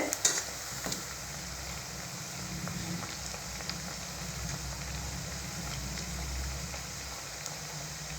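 Tapioca vadai deep frying in hot oil makes a continuous fine crackling sizzle, close and even, with a brief louder clatter at the start and no voices.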